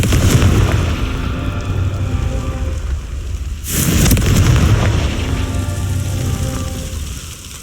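A Confringo blasting spell in the Hogwarts Legacy video game, heard as a loud, deep rumbling boom that rolls on for a few seconds, followed by a sharp burst and a second heavy rumbling blast.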